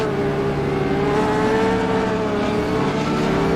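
A race car accelerating hard during the GTI season opener at Daytona, a loud, sustained engine roar with a rising, even pitch and no voices.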